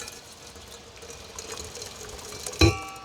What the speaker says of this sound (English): You just pour in hot water